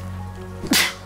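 A single sharp sneeze bursts out near the end, close and loud, preceded by a brief inhale over a steady low hum and quiet background, while people talk briefly in the clip.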